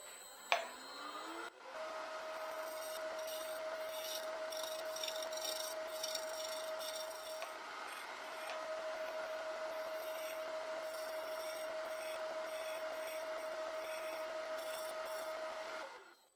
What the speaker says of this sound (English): Let's see what a negative rake scraper does.